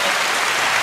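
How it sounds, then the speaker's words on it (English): A brief burst of group hand clap applause for LaWanda, dense and even throughout, with no gaps or voices standing out. "A hand clap for LaWanda."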